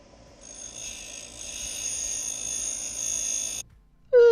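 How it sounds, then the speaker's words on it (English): A grinder trims down an oversized electrical connector for a jump post on a Porsche 928 project car, giving a steady high-pitched whine that rises and holds for several seconds, then cuts off before a short, sharp squeal. "This is an easy fix with the grinder."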